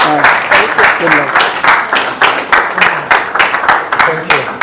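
Scattered audience clapping at a talk's close, uneven and fairly close, with a voice speaking over the claps in places.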